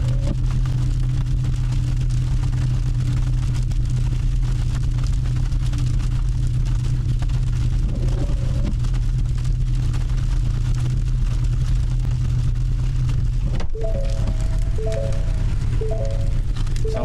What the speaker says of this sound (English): That's somebody's car. It does sound like a chainsaw.